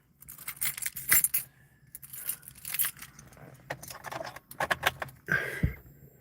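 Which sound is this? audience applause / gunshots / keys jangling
keys jangling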